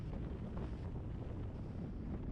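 Strong wind gusts buffet the microphone with a low, rumbling roar that stays constant and fairly quiet over a short stretch, with no voices.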